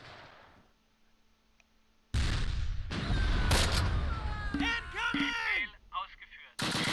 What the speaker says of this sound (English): sounds like our AT gun's opening up